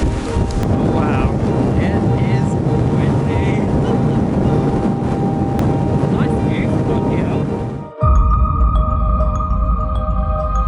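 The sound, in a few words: strong wind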